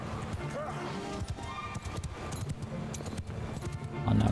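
A cavalry charge of galloping horses pounds across a Mount & Blade II: Bannerlord battlefield, a dense rumble of hoofbeats mixed with battle noise. A voice talks over it throughout.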